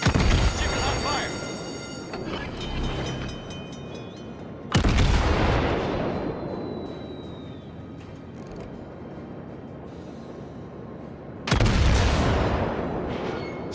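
Naval guns fire in World of Warships with two heavy booming blasts several seconds apart, each trailing into a long rumbling decay, while a voice talks over the battle.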